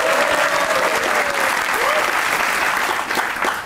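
A studio audience at a comedy talk show claps in dense, sustained applause, loud and close throughout, easing slightly toward the end.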